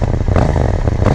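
Steady engine note from a KTM Duke 790 motorcycle, a continuous close rumble with a low throbbing pulse and some mechanical clatter, heard alone without talk.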